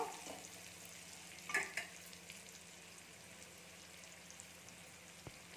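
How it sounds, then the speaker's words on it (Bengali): Chopped onions fry lightly in a pan for lemon rice, a faint low sizzle with a couple of soft stirring knocks, quiet and without voices. "চলুন বন্ধুরা, আমরা পেঁয়াজটা হালকা করে ভেজে নিই"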